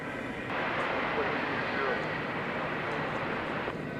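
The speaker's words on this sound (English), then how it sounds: "Okay, we got a 747, which is now on the move." A Cargolux Boeing 747 cargo plane taxis at DFW Airport, its engines a steady broad roar that swells after the first half second and stays constant.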